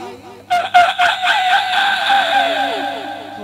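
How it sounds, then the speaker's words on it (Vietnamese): A rooster crows loudly and close by, one long strained call that wavers and tails off, with fainter fowl sounds underneath. "Nhưng mà gà gáy rồi con ơi."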